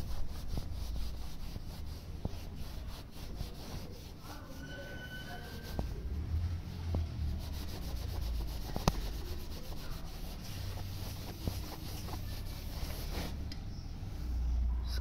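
Hand rubbing and polishing of a plastic mold die, a steady continuous abrasive scrubbing with fine, regular strokes close to the mic, over a low rumble of background machinery.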